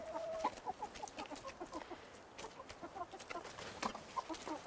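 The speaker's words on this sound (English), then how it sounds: "So we've got 14 hens and 1 rooster." Several hens cluck softly and repeatedly nearby, short chattering calls overlapping in a loose, busy rhythm against quiet background.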